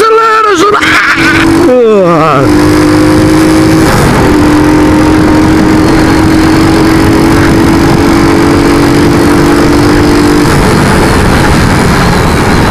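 A Honda Biz ES 125 motorcycle engine revs up and then holds a loud, steady drone, recorded close and somewhat distorted, with voices speaking over it.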